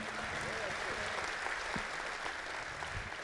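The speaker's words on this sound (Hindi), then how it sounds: "तालियां दीजिए" Applause from the audience at a Hindi kavi sammelan, a comedy poetry gathering, as a steady wash of many hands clapping, fairly faint and distant, holding evenly for a few seconds.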